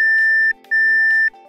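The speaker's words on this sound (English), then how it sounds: "After 10 minutes, the programmer will beep twice," Two loud, steady electronic beeps from a Ford ignition lock cylinder programmer, each about half a second long, separated by a short gap, close and clear with a faint hum beneath.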